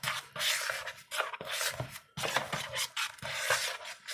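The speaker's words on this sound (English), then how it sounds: "Just mix the batter around." A spoon stirs thick banana bread batter in a bowl, making repeated scraping, sticky sloshing strokes in a steady rhythm with short pauses, close and fairly loud.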